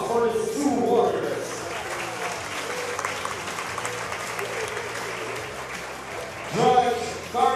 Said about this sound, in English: a round of applause for his 2 warriors